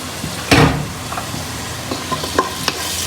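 Potatoes sizzle in a frying pan while a utensil stirs and scrapes them, starting with one sharp clatter and followed by lighter taps over a constant hiss. No voices.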